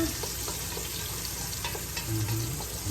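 Ginger cooking in a pan for a seafood coconut-milk stew, giving a steady, even sizzle with faint stirring clicks throughout, close and moderately loud, no talking.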